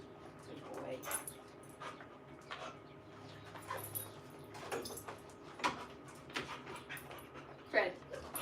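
Dogs whimpering and panting indoors, soft intermittent whines and breathy pants at moderate distance, mixed with faint background voices.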